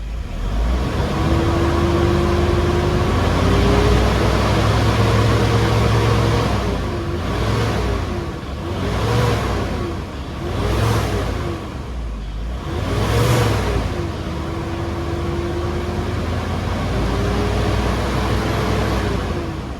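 A Toyota Innova's 2KD diesel engine, warmed up to running temperature after a check-engine fault, idles with a steady hum and is revved in four rising and falling bursts, close and loud, with no talking.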